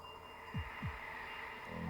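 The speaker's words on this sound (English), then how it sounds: "I just heard like a heartbeat" Two soft, low heartbeat thumps in quick succession sit over a steady hum in the 1997 video game Devil Summoner: Soul Hackers, faint and without talk.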